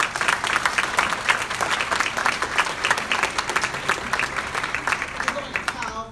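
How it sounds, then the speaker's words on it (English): An audience at a public schools event breaks into steady, full applause for the speakers, dense clapping continuing throughout without pause. "let's give them a big round of applause"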